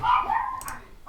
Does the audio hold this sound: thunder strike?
no